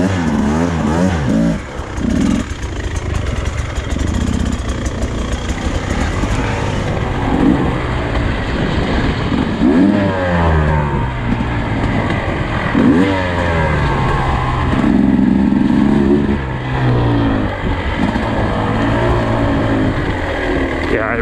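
A 2024 Beta 250 RR dirt bike engine revs and rises through the gears, loud and close, with its pitch sweeping up and down repeatedly while a rider talks over it.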